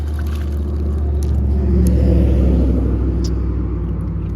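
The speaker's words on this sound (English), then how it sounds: "Love that the truck just went by as I'm recording" A truck rolls past a fishing spot in a steady, loud low rumble that swells toward the middle as it passes close by, then eases off slightly.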